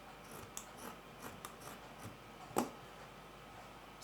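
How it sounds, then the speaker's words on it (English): Scissors snip through fabric for an off-shoulder bustier gown, giving a few faint, irregular cuts close by with one sharper snip near the end, heard alone in a quiet room. "So I'll cut it out now."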